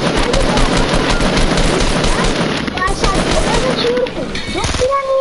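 Loud, rapid bursts of automatic gunfire in a PS4 video game, close and sustained, with a voice talking faintly underneath and ricochet-like whines near the end.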